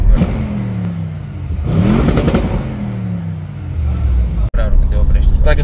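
An Audi RS7 engine with a custom exhaust revs up and down loudly, deep throaty exhaust rumbling with rising pitch sweeps, voices faintly mixed in.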